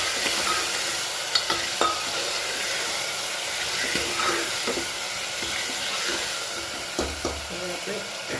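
Potatoes and masala chutney sizzle and fry in oil while a spoon stirs them, giving a steady hiss broken by scraping knocks against the pan, near and fairly loud, with no talking.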